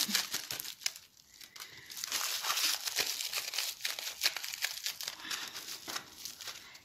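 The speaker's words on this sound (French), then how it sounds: "je vais reprendre un peu de papier d'alu." Aluminium foil is crumpled by hand into a ball for a craft project, a close, crisp crinkling in irregular bursts with no talking.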